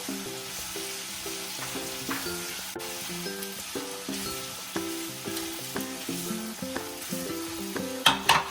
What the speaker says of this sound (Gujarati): તો હવે આ પનીરના ક્યુબ એડ કરીએ. એને બી થોડા રીતે ઓઇલમાં ફ્રાય જેવા કરી દેવાના.